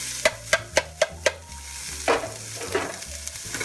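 Onion going into a hot pan for meatloaf: a run of sharp, evenly spaced spoon taps against the pan, then bursts of sizzling as the onion hits the heat.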